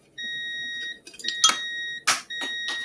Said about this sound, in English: That was the timer on the coffee.